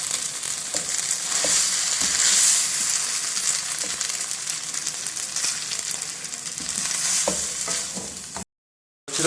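Chicken and vegetables for spaghetti hiss and sizzle in a pan while being stirred and mixed, with a continuous close fry and occasional scraping knocks, ending in a brief moment of silence.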